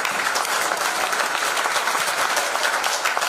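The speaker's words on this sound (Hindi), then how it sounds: "एक बार इनके लिए जोरदार ताली होनी चाहिए।" Loud, steady audience applause fills the room at an agricultural products training session, dense continuous clapping from a crowd without pause.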